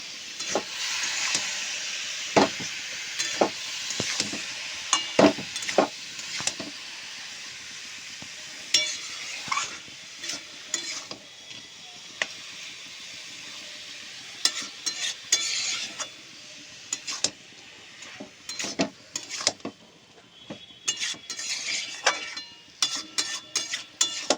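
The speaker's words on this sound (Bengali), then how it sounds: "এবার মশলার সঙ্গে মূলোটা ভালো করে মিলিয়ে নেবো।" Radish being stirred into fried spice paste in a pan, with steady sizzling and hiss and repeated scraping clicks of a spoon against the pan, close and moderately loud, no talk.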